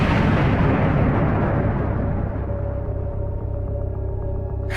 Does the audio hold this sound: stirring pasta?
no